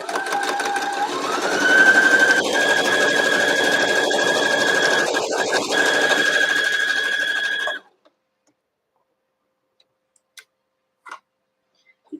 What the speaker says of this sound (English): And I'm sewing right off the edge.